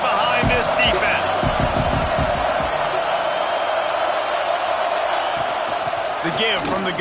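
A stadium crowd roars steadily in a college football video game, Oklahoma vs Oregon, on a big third down. Dull thumps and occasional whoops rise from the roar while a commentator talks over it.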